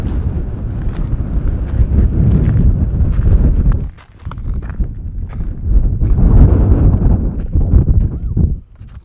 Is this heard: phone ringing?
no